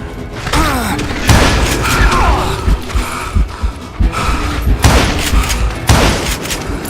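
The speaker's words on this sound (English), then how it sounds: "Robert Ollinger appeared with his terrible double-barrel shotgun." Loud booming gunfire from a double-barrel shotgun in the Western game Call of Juarez: Gunslinger, a rapid series of heavy blasts and thuds mixed with a game battle soundtrack.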